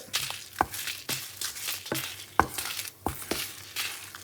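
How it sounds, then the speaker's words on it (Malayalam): Coconut, dried red chillies and curry leaves being dry-roasted, stirred and scraped in a hot pan, with sharp intermittent clinks of a utensil against metal and a faint crackle between strokes. "ഇതെല്ലാം കൂടെ ചേർത്ത് നമുക്കൊന്ന് വറുത്തെടുക്കാം"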